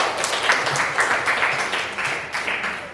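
Classroom students in a ninth-grade civics lesson clap together, a short burst of dense, close clapping with uneven rhythm that carries on through the whole moment.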